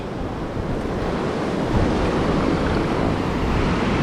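Pacific surf breaking on a beach in Baja roars in a steady wash, swelling slightly louder midway, with wind buffeting the microphone and no voices.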